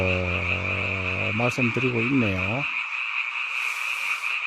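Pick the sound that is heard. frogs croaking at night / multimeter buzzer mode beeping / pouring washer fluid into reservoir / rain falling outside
frogs croaking at night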